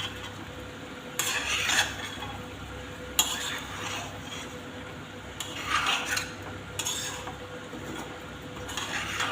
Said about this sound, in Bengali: আবারও নাড়ছি।